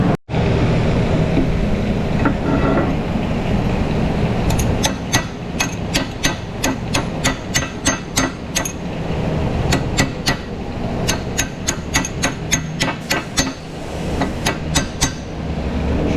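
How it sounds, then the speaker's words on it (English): Sharp metallic hammer strikes ring out in a steady series, chisel blows knocking rust off a Cadillac front disc brake bracket close by over a low background hum. "I'm going to try to hammer some of this rust out of here,"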